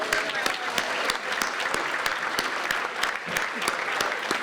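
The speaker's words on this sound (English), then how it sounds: "Give yourself a round of applause." A school Founders' Day crowd applauds steadily, a dense wash of clapping with a few sharper nearby claps standing out, holding at an even level throughout.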